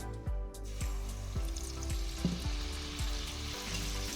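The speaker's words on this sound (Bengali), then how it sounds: "তোমাদের আরেকটা আমি ভেজে দেখাচ্ছি।" Malpoa sweet pancakes frying in hot oil, a steady close sizzle with low rhythmic bubbling pulses repeating about every half second, no voices.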